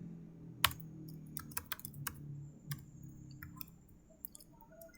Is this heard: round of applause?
no